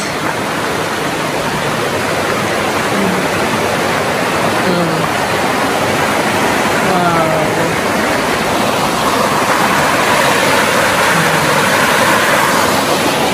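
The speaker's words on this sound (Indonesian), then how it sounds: "Terjun air terjun" A waterfall roars steadily and loudly without pause, a dense wash of white noise close by, with a brief exclamation of surprise from a voice over it.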